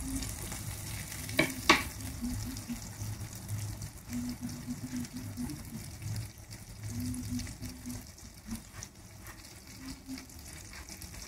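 Semolina-coated mackerel fries on a hot tawa, giving a continuous close sizzle with small pops and a few sharper crackles near the start that settle into a steady hiss, with no voice.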